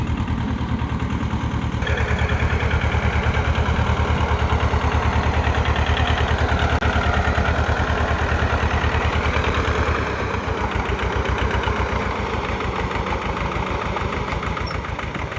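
A tractor engine runs steadily and loudly nearby while spraying a grape vineyard, with a continuous throbbing mechanical drone and a faint sprayer hiss throughout.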